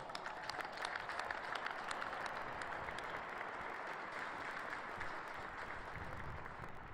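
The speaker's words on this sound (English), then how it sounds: "Let's give them a round of applause." Audience applause at a United States military academy graduation ceremony, a broad, steady wash of many hands clapping heard from a distance, even and sustained for the whole stretch without talk over it.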